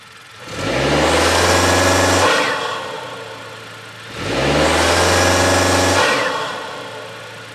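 A Honda Civic with a CVT and a PRL short ram intake revs twice in close succession. Each burst swells to a loud, steady roar for about two seconds, then falls back to idle.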